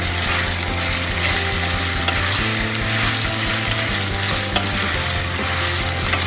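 Chopped ginger and tomatoes sauté in a pan for a street-style channa masala, a loud continuous sizzle with steady stirring scrapes and a few sharp clinks of the spatula.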